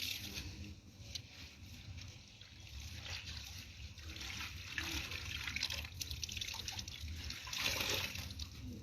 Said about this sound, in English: you have to see me drawing water from the well